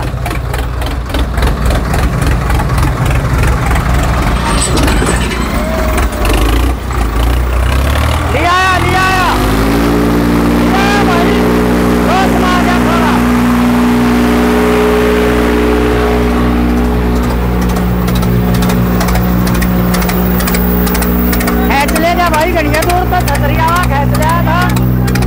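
Loud, heavy engines of modified Swaraj tractors in a tug-of-war roar and strain continuously, the pitch shifting as they labor, with people talking and shouting over the din.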